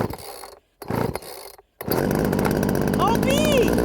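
A rebuilt chainsaw is pulled over twice with brief sputtering bursts, then catches and runs loud and steady at close range, its engine buzzing continuously with a rising whine toward the end.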